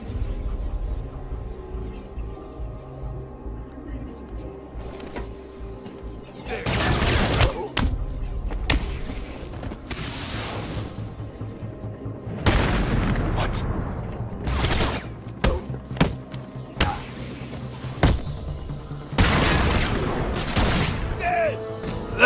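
Snipers fire in Batman Arkham City, with several loud, sharp gunshot bursts at irregular intervals over a low rumbling background and no speech.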